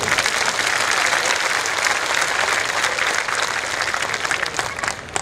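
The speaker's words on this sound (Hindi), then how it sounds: "फिर तो दोनों हाथ ऊपर करके तालियां भी बजा दीजिए जोर से" A parenting seminar audience in Surat claps loudly with both hands raised, a dense, sustained burst of applause that stays strong for several seconds and tapers a little near the end.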